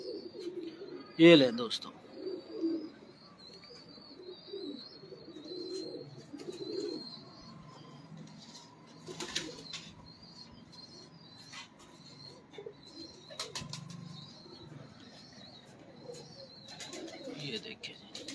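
Pigeons, including sharmely breed birds, coo softly in a loft in Faisalabad, low murmuring calls under a voice and background chatter, with a sharper burst near the start.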